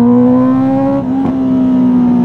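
A 2023 Honda CB650R motorcycle engine revs high and loud, drops briefly as the throttle comes off for an upshift, then pulls back to a steady near drone.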